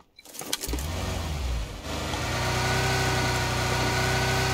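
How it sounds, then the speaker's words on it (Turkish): A car engine in the shooter game PUBG Lite starts with a few clicks and a quick crank, then settles into a steady, loud idling drone that rumbles on without pause. "Allah'tan burada arabamız var."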